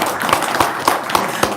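A group claps hands in a room, a steady patter of overlapping claps with a few sharper individual hits, fairly loud and close.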